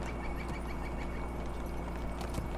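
Horse sounds from a mounted emote in the online game Lord of the Rings Online, with neighing and hoof clip-clop over a steady game backdrop, moderately loud throughout.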